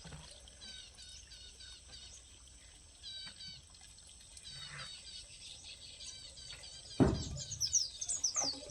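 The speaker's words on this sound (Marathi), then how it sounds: "चिमणी आली, वरडायला लागली इथं." A sparrow calling near its nest with two small chicks, repeated high chirps in short bursts, close but fairly faint, followed near the end by a louder clatter.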